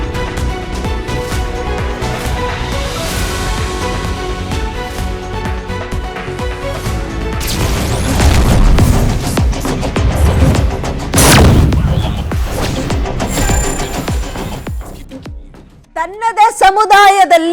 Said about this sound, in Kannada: ಪಟಾಕಿ ಸಿಡಿಸಿ ಅಭಿಮಾನಿಗಳ ಸಂಭ್ರಮ